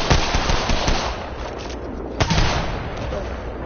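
Enemy gunfire in an online shooter video game: rapid automatic bursts and overlapping shots crackle densely throughout, loud and close, with a sharper single report partway through.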